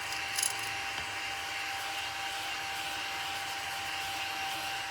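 A vacuum cleaner runs steadily at close range, a continuous whining drone with a faint tonal hum and one brief bump of extra noise near the start, used while tidying up at home.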